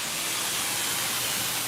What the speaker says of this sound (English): sorry about the noise, guys. I think there's an air leak.